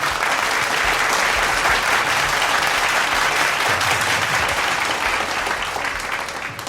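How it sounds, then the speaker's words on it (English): An audience at a school annual day prize giving claps loudly and continuously, a dense sustained applause that tapers slightly at the end. "Please welcome Drupad on stage with a very big round of applause."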